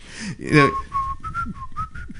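A person whistles a short tune alone, a few bright rising and falling notes with brief breaths between them, close to the microphone.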